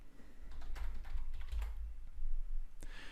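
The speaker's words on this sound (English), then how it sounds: "I'm gonna type Facebook" Fingers type a short word on a computer keyboard in a quiet room, a quick run of light clicks with a final sharper keystroke near the end, no talk.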